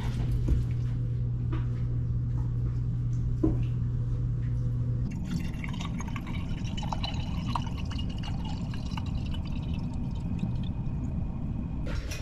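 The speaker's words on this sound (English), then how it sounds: "So I'm gonna fill these mostly up just so I have enough water for the water bath." Water runs steadily from a tap into canning jars being filled for a water bath while making applesauce, a continuous splashing pour with small drips, close and alone with no talk.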